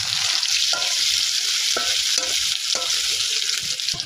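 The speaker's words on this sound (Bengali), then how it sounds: "এবার নেড়ে ছেড়ে এটিকে ভালো করে ভেজে নেব পেঁয়াজটিকে।" Sliced onions and green chillies hiss in hot oil as a spatula stirs and knocks against the pan in uneven strokes, close and loud with no talking.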